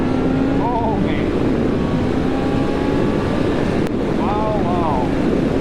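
A 2011 Honda CB1000R with a Fireblade-derived engine accelerating; a faint rising engine tone comes through briefly, twice, under a constant heavy roar of wind.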